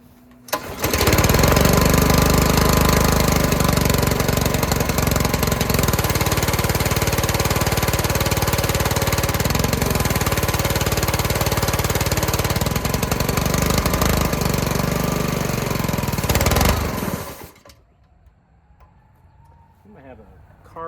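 A roadside pressure washer engine with a suspected carburetor or governor fault runs loud and rough and close by for about seventeen seconds, surging unevenly, then cuts out abruptly, leaving faint background noise.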